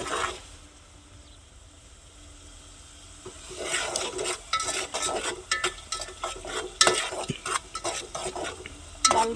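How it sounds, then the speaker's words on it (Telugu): Potato curry being stirred in a pan for a simple village-style dish, with repeated scraping and clattering strokes of a spoon against the pan after a quieter start, over a faint sizzle. "బాగా ఇలా కలబెట్టుకోవాలి ఫ్రెండ్స్"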